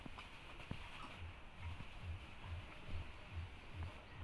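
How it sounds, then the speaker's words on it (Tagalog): Horses clip-clopping on a road in a rural Philippine setting, a regular rhythmic series of hoof strikes, faint and somewhat distant under low background ambience. "Ayan mga kabayo."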